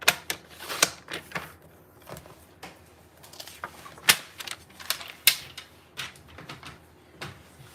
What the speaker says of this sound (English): let me just grab my Stampin' trimmer and just make a straight line.